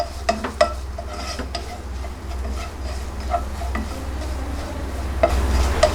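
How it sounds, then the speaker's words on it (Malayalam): Spices with a quarter teaspoon of ground fennel frying in oil for pepper chicken, a soft steady sizzle punctuated by scraping stirs and light clinks of a spoon against the pan. "ഇനി ഇതെല്ലാം കൂടെ നന്നായിട്ടൊന്ന് വഴറ്റി കൊടുക്കാം"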